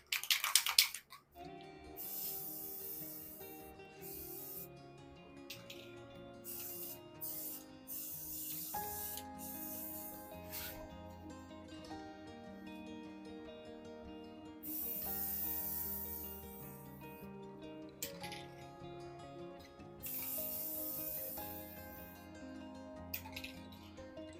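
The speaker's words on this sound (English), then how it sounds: "I'm just going to go ahead and spray paint it with some Rust-Oleum High Performance" Bursts of Rust-Oleum High Performance aerosol spray paint hiss in short and longer pulses, close up, over a steady background of music.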